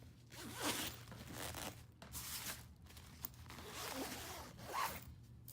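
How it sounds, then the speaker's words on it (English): The clothes side of a carry-on bag is zipped shut in several long close-up pulls, a scratchy ripping rasp that rises and falls, with no talking. "So I zip up the clothes side."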